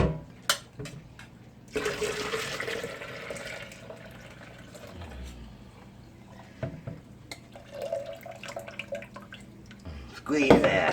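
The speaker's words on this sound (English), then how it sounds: "next I'm going to add some water to the pot with the tea bags" Water pours into a pot holding tea bags for Southern sweet tea, a splashing, gurgling fill in close bursts with drips and stirring between them, alongside some speech.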